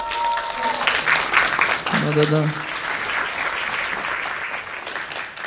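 Audience applause at a stand-up comedy show, a broad wash of clapping running through the whole stretch, with a comedian's voice speaking over it early on.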